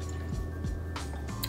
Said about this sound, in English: I'm going to chug water